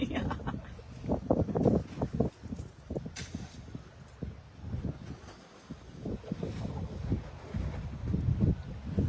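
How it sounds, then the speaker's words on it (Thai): Wind gusting outdoors around an open-air spot where a child plays in water under dark, stormy skies, roaring in broad buffeting bursts across the microphone beneath nearby talking and movement. "โอ้โห ลมมา"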